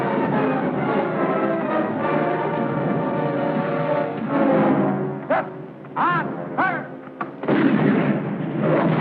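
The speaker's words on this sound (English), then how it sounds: "Shots for good measure." Gunfire in a 1951 war film battle scene, loud bursts over a dense orchestral score, with sharp reports standing out near the end.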